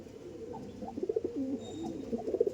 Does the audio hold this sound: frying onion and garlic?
no